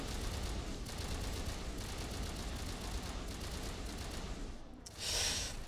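Sniper gunfire in the video game Mass Effect forms a dense, continuous wall of battle noise, with a sharper, brighter burst near the end.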